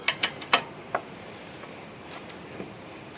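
A wrench ratchets on a 9/16 bolt of an MTD yard machine mower, giving a few sharp close clicks in quick succession, then softer scattered clicks fading out.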